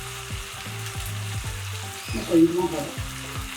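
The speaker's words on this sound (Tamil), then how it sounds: "இப்போ வெங்காயம் தக்காளி வதங்கிடுச்சு." Onion and tomato sautéing with salt in a pan for a vegetable lunch dish, a steady close sizzle with rhythmic stirring scrapes, while a voice talks briefly over it.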